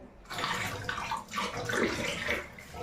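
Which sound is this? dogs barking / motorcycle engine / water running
water running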